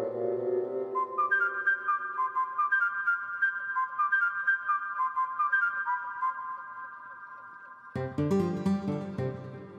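A phone ringtone plays a repeating electronic melody of bright tones in a quiet home room, steady and fairly soft, before a sudden louder burst at the end; no talk.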